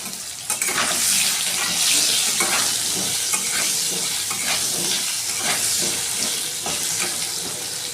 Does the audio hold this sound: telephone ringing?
no